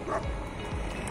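A dog barks twice in quick succession outdoors in a vineyard valley, short yipping woofs at moderate distance over steady background noise.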